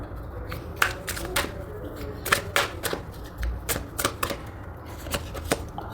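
Tarot cards being shuffled by hand: a run of sharp, close riffling snaps and flicks at an uneven pace, fairly loud against a quiet room.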